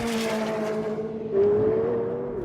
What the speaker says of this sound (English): But there it goes, the 720S pulls away